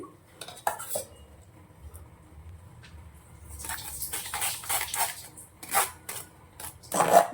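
Pressure-cooked raw mango for aam papad is worked through a sieve in a metal pot, giving irregular scraping, clinking and stirring clatter in bursts, quiet between strokes and growing busier toward the end, with no talking.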